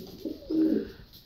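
A pet dove or pigeon gives a single soft, low coo close by, rising and then fading within about a second, against quiet background noise.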